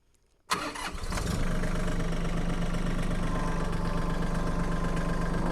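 A Mahindra 1626 compact tractor engine cranks and catches after a brief quiet start, then runs steadily and loudly at a close, even idle as the machine backs up on soft ground.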